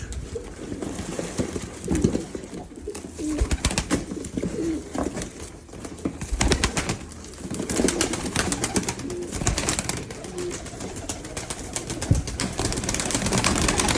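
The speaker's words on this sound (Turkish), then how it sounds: "Bakın bunlar hep uçup oynamış kuşlar beyler." A flock of tumbler pigeons coos and chatters close by, with occasional bursts of wing flapping over a steady rustle of activity.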